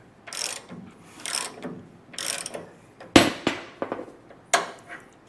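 A hand ratchet snugs the ball joint nuts in the front suspension of a 1957 Chevrolet Bel Air. Close bursts of rapid metallic clicking repeat about five times, separated by brief pauses, with a sharper clack partway through.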